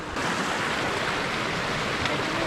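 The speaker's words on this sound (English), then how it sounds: "There's definitely more water on Buckhorn Creek." Water rushes steadily down Buckhorn Creek in a canyon, a loud, continuous broadband roar with no breaks and no voices.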